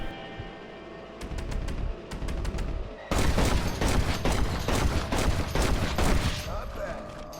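Gunfire in a Red Dead Redemption duel: a few sharp shots over a low ambient bed, then a dense, loud volley of rapid overlapping shots that continues to the end.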